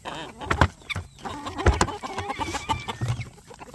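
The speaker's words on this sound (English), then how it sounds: "Hey, chicken." Several hens at a homestead chicken coop cluck and squawk close by in irregular bursts, with rustling and occasional louder calls, and no talking.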